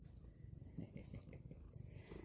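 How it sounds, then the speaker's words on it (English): A cat purrs very softly and steadily, faint and close, a low continuous rumble with a gentle pulsing rhythm and no voices over it. "you little kitty cat are you"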